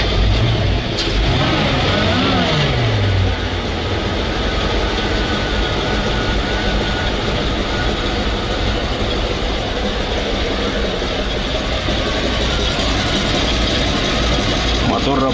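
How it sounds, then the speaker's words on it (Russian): A BRDM-2 amphibious armored vehicle's engine runs steadily with a loud, heavy low rumble close by, after a brief rising whine at the start. "Мотор работает очень хорошо."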